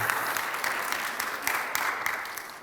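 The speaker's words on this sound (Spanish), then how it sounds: "Denle un aplauso al Señor por Pablo." A church congregation claps for a returning visitor, a steady wash of mid-distance applause with small bursts of emphasis, no voices over it.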